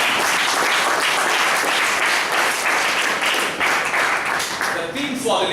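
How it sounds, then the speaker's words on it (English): A crowd applauds steadily, dense clapping that fills the space, fading slightly toward the end. "A round of applause for that."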